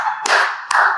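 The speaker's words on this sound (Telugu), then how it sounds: "చప్పట్లు కొట్టకండి, మీరు కొడితే నేను తాగినట్టు నాకు అనిపిస్తుంది" An audience clapping during a Telugu TV interview, two short loud bursts of close, dense applause with a brief dip between them.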